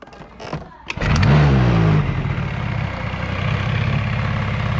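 A Honda Dio scooter's small engine starts up after a brief rattle, revs once, then settles into a steady, close idle that runs on continuously.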